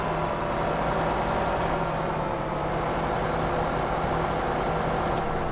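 A 147-horsepower tractor in Farming Simulator 2015 pulling a cultivator, a steady low engine drone with a constant hum running throughout.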